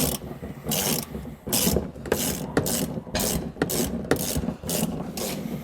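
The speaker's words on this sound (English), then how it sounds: "we're going to be loosening this nut here with our socket, which is going to lower the winch so we can remove the spare tire" A socket wrench loosening the spare tire winch nut on a 2022 Kia Telluride, giving repeated close ratcheting clicks in short bursts with brief rubbing between strokes, steady and unaccompanied by talk.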